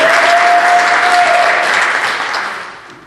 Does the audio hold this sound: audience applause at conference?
yes